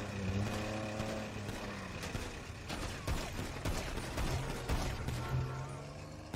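Sharp gunshots crack in scattered bursts during a gang shootout in GTA roleplay, mixed with engine drone and mechanical clatter, moderately loud and close.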